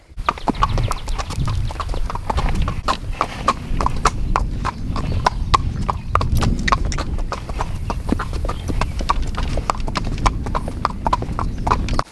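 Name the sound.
horses walking, hooves clip-clopping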